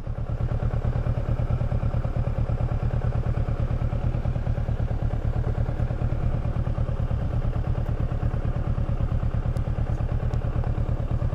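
A 2018 Kawasaki Versys 650 ABS Tourer rides slowly over sand, its mid-range engine thrumming in a steady, close, rapid rhythmic pulse with faint clatter throughout and no talking.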